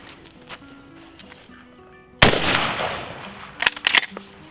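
A shotgun fires a reloaded Federal Gold Medal paper hull, a single sharp blast with a decaying rumble, followed a second later by a couple of softer clatters.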